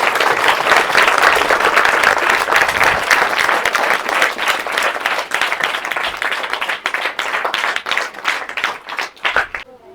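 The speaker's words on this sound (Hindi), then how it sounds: "एक बार सभी ताली बजा देंगे। जोर से बजाओ, जोर से।" Schoolchildren at a school gardening-education event break into loud, dense applause that holds strong for several seconds, then thins into scattered, uneven claps before trailing off.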